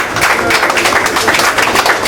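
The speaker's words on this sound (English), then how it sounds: "Now let's get a round of applause for those hands." A crowd at a Phoenix political rally gives public school teachers a round of applause, with dense, steady clapping that runs loud and continuous throughout.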